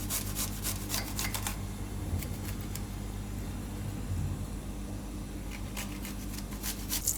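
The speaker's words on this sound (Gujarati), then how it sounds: "આ જે લસણની કળીયું છે એને છીણી લેવું." Garlic cloves rubbed finely across a grater, quiet rasping strokes in quick rhythmic bursts at the start and again near the end, with a soft steady hum beneath.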